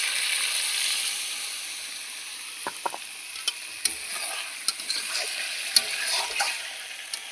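Chicken pieces fry with spices in a pan for chicken kosha, giving a steady close sizzle with a scattered series of sharp utensil clicks and scrapes. No voices are heard.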